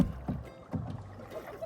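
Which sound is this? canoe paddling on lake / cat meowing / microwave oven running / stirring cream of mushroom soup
canoe paddling on lake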